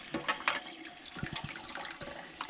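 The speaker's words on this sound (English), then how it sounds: "Oh, nice warm water." Warm water runs from a tap while a foam RV air conditioner filter is washed, giving an irregular splashing, gurgling stream close by with no voices.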